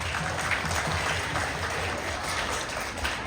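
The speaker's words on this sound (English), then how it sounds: "I just really want to take a minute to give a big round of applause to our students here" Sustained applause from an audience at a civics share fair at Flushing Town Hall, honouring fifth grade students; dense, steady clapping fills the room at even loudness throughout.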